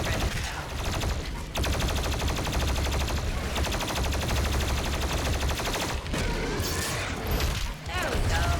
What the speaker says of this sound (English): I guess we're playing with the plasma cannon.